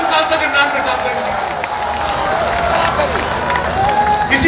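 Audience applauding and cheering at a political rally in Bhiwandi, Mumbai, a dense steady wash of clapping and crowd noise filling the whole stretch, with a voice faintly mixed in.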